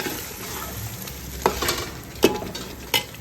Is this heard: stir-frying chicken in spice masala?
yes